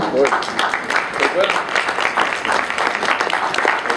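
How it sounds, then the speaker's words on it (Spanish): Applause for Doctor Miriam Suazo as she stands at a women's forum event: a brief round of crowd clapping with a voice talking over it. "Eh, doctora, si se pone de pie, le regalan un aplauso."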